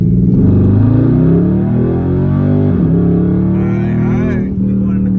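A Dodge Charger SRT8 in sport mode revs loudly, its engine note rising and falling close by, while people talk inside the car.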